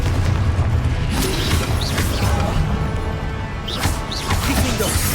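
The Confringo blasting spell in Hogwarts Legacy goes off as a loud booming burst, with whooshing magic and crashing impacts filling a dense, continuous game soundscape.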